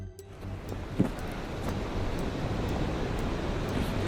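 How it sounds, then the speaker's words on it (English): Waves crash against basalt rocks at an ancient site, a steady, broad roar of surf with a single brief thump near the start and no voices. "Waves crash against the rocks."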